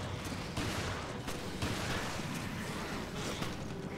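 Continuous heavy gunfire in Resident Evil: Revelations, shotgun blasts and other shots packed into a loud, unbroken barrage with sharp bursts throughout.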